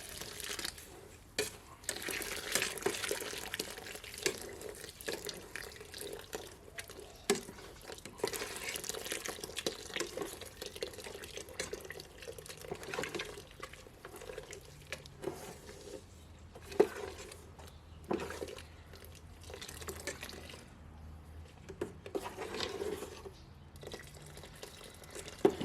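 Water running into a 3 litre jug for a cereal mash, a quiet, uneven splashing and trickling with irregular drips and pauses, close by and fairly faint.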